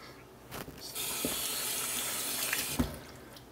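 Fresh red raspberries rinsed under a running kitchen tap, a steady hiss of flowing water with soft splashes and a couple of brief knocks, fairly quiet and with no talking.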